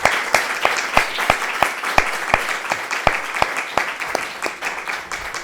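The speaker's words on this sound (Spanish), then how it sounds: "un aplauso para Fernando" A small audience at a book presentation in a bookshop claps for a reader, individual hand claps standing out distinctly in a fairly steady, sparse patter that gradually thins toward the end.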